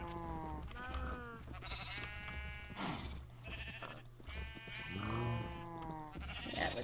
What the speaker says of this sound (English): I don't know if there's another sheep or if they're all in their refractory period at this point.